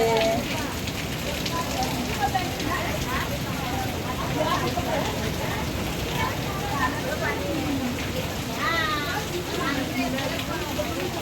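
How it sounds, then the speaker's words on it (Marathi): Heavy monsoon rain pours down at the Ganpatipule temple in a steady, dense roar, with voices talking and calling out over the downpour. "लय पाऊस चालू भयानक"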